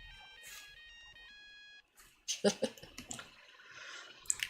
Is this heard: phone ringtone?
yes